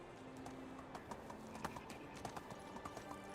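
Horse hooves clip-clop steadily in the medieval village-building game Medieval Dynasty, a quiet, regular trotting rhythm over a low background bed.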